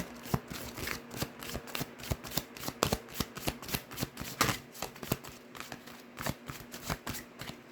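Tarot cards being shuffled and drawn in a steady run of crisp riffling flutters and snaps, close and fairly loud, with no talking.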